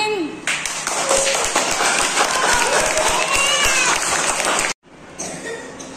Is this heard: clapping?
yes